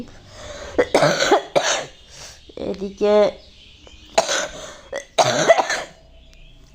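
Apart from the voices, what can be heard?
woman coughing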